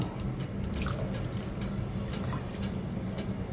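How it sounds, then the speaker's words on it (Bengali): Water splashes and trickles into a cooking pot holding ash gourd and spices, a close, steady gurgling pour with small drips, no voices. "এখন দিয়ে দিচ্ছি পানি পানি দিয়ে ঢেকে দেব"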